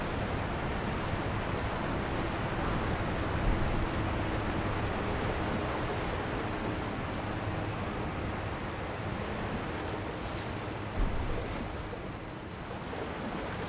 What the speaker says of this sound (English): I'm glad they put something behind the waterfall.